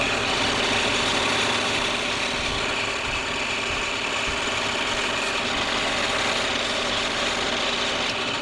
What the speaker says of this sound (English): So now I'm going to turn the lathe on again.